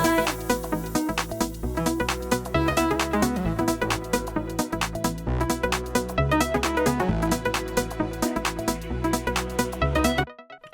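Full electronic pop chorus of a song: driving four-on-the-floor kick, layered claps, bright synth chords and bass, steady and loud, cutting out abruptly near the end.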